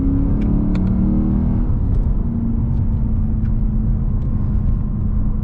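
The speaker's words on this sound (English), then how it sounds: "So now we're gonna just flick a few downshifts," A Lexus GSF sedan in sport mode drones loudly from close by, its engine tone stepping up as it downshifts early on, then holding a steady rumbling pitch with faint clicks above.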